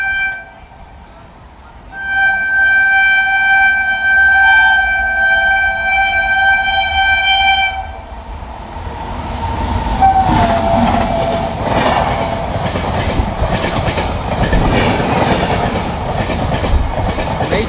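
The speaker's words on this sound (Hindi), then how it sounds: "यहाँ पे वैगनन के साथ एक और ट्रेन हमको ओवरटेक करने वाली है" A Barauni–Bandra special train passes close by while overtaking alongside, a loud continuous rumble with rhythmic wheel clatter and a long sustained horn blast near the start, heard from an adjacent moving train with some talk.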